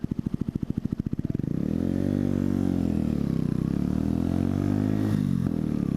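A Honda Mutt motorcycle engine chugs with rapid, even pulses that quicken and settle into a steady, close idle.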